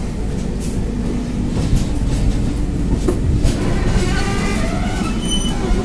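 Inside a moving Sealdah Kamakhya AC special train, with a loud, steady rumble of wheels and carriage noise throughout and faint squeals rising near the end.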